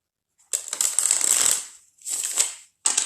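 Tarot cards are shuffled close by in a few quick riffling bursts, crisp papery rustles separated by brief pauses, with no voice over them.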